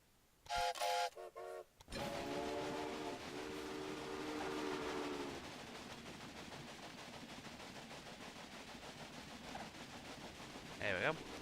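Trains in the Railway Empire game: a couple of short horn blasts open the clip, then a steady rolling rumble of rail cars runs underneath, fading toward the end, with a brief tonal blip near the finish.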